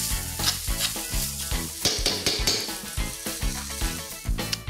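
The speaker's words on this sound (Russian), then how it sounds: "Хорошенечко вымешиваем." Millet porridge with cranberries and sugar is stirred in a pot, a loud scraping, sizzling churn with repeated rhythmic strokes running close and continuous throughout.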